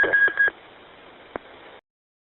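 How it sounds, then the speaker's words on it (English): A few short electronic tones beep in quick succession from an Anytone handheld radio, followed by a steady hiss and one brief click before it cuts to silence. "So I had some beeps on the handheld."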